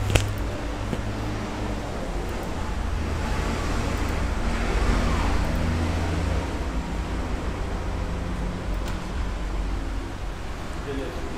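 Nissan Almera engine running on LPG during a dyno power test, a steady loud roar rising slightly mid-run and easing after, with voices faintly in the background.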